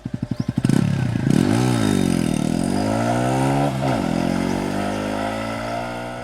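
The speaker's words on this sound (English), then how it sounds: "this is a 110cc commuter and it sounds so bassy" A TVS Radeon 110cc commuter motorcycle starts with a few quick chugging pulses, then its bassy exhaust revs up and down in rising and falling sweeps before settling into a steady idle-like hum.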